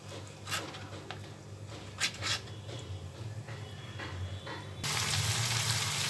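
Spiced goat brain bhuna, a paste of spices frying in oil in a pan, gives a steady soft sizzle with a few louder stirring scrapes; the sizzle swells brighter and louder near the end.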